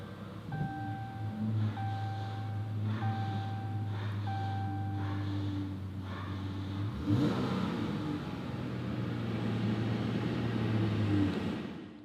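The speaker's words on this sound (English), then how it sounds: "To start it up, you put your foot on the brake and hold it and push this button." A 2018 Dodge Charger SXT Blacktop is started by push button: chime tones repeat, then the engine cranks and catches with a brief rev before settling into a steady idle, heard from inside the car.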